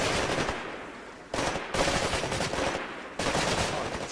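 An assault rifle fires in Titanfall in long, loud, rapid automatic bursts, with brief pauses between sustained streams of gunfire.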